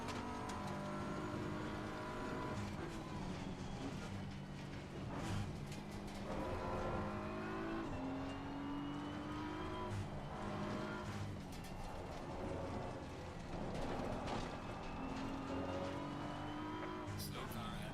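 Race car engines roar steadily on the Nordschleife in Assetto Corsa, with a Porsche among the cars, holding high revs with shifting pitch and occasional tire squeal, under near-continuous commentary.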